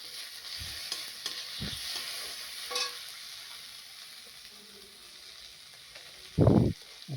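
Okra and potato with turmeric, chilli powder, salt and cumin paste sautéing in a pan, stirred now and then with a few sharper scrapes over a steady soft sizzle, with one louder clatter near the end.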